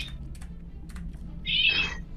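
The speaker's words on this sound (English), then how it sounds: "I hear a cat." A cat meows once, a short rising-and-falling cry in the background, preceded by a few faint keyboard taps over a low steady hum.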